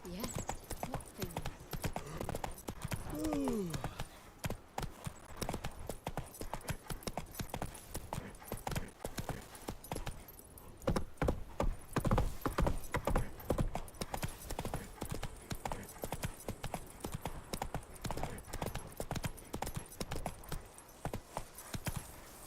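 Roach the horse from The Witcher 3 trots with steady, continuous clip-clopping hooves throughout, while voices talk over the hoofbeats.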